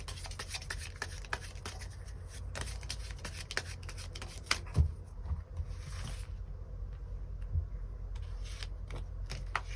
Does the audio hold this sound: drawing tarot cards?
yes